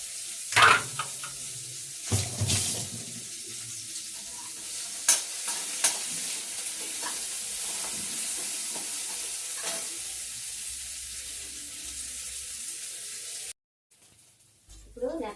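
Onions fry in a pan while a spatula stirs them, with sharp scraping knocks standing out over a steady crackling sizzle before the sound cuts off near the end.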